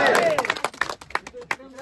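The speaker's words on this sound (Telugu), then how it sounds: "క్లాప్స్ కొట్టండి." A crowd claps in a scattered burst of sharp hand claps with background chatter, at a village secretariat event in Seethanapalli, Krithivennu, launching a Swachh Ratham.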